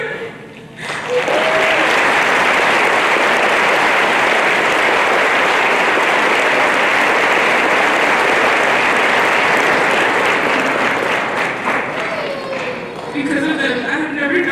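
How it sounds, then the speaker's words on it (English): Sustained, loud applause from a graduation audience fills nearly the whole stretch, with steady clapping at close range and light chatter mixed in. "please give a round of applause to my family."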